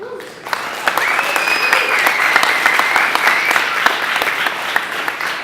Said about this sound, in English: That does deserve a round of applause because they said it wouldn't happen.